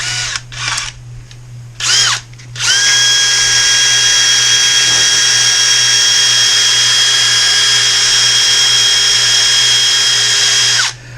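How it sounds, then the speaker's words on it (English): A power drill spins a tunnel hull part while a tip is shaped on it: a few short bursts of the motor revving up and down, followed by a long, loud, steady whine that cuts off abruptly. "So I put it in drill."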